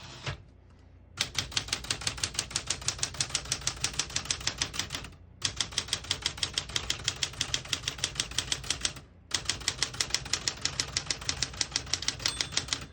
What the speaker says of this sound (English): Once you hear the bell, you're at the end of the margin.